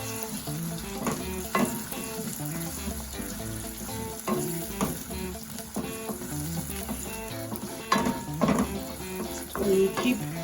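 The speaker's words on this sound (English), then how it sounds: "So you keep stirring and frying till I leave it on to fry so it becomes a bit dark." A pepper, onion and tomato mix frying in a pot for jollof rice, a loud sizzle with recurring scrapes and clinks of a spoon stirring, close and continuous.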